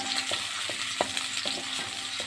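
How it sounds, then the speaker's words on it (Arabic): Grated onion fries in oil or ghee with a constant sizzle, while a spoon stirs it in a series of repeated scraping knocks against the pan. "خرطنا بصلايه صغيره كده حطيناها على الزيت"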